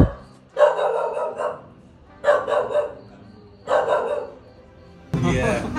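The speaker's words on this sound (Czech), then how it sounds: "a ten pes mě sere" A dog barks beside an urban downhill bike track in India, three separate bouts of close, loud barking with pauses between them, followed by a burst of broadband noise at the end.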